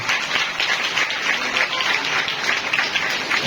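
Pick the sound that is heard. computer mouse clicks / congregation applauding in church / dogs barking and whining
congregation applauding in church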